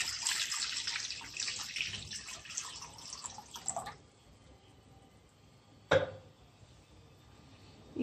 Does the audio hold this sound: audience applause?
no